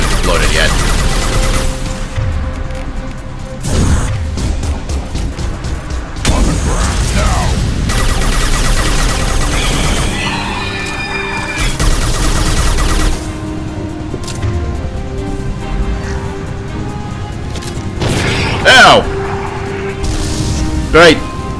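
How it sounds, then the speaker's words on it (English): Enemies blowing up in the game Mass Effect 2 during combat, loud booming blasts and crackling gunfire scattered throughout a dense battle mix, with someone talking over much of it. "Right, the enemies explode."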